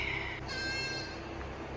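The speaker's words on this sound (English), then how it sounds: "So mama and baby goat have been separated." A goat kid and its mother, separated on a hillside in New Zealand's Richmond Ranges, call out in one faint, wavering bleat over a steady outdoor hiss.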